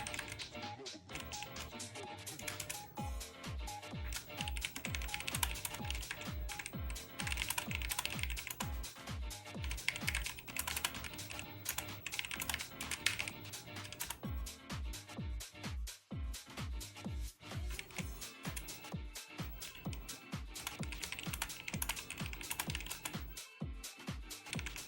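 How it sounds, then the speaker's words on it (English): Steady, slow typing on a computer keyboard, close and clear, with keystrokes coming in uneven runs and short pauses, set against a faint background of music. "Sorry, I'm typing really slow, by the way."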